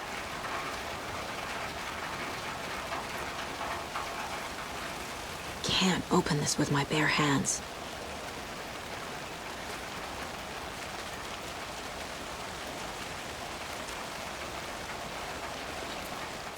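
Steady rain hissing across the scene in the video game Alan Wake 2, a soft, constant wash that runs throughout beneath someone talking, with a brief louder clatter in the middle.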